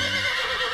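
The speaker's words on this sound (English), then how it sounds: "I reckon y'all know my co-horse, Rusty." Cartoon horse character neighing at a rodeo challenge, a short, loud, close whinny with a wavering tone, heard on its own.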